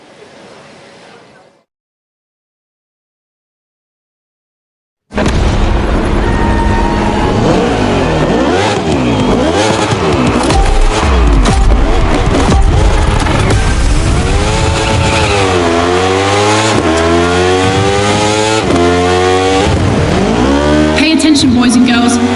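Race car engines in The Crew Motor Fest rev loud and close, climbing and dropping through gear changes in long sweeping pitch arcs. They start after a brief faint opening and then a few seconds of silence.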